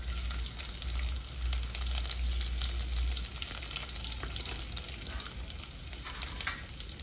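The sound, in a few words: whole cumin seeds spluttering in hot oil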